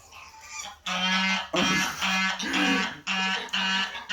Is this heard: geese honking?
yes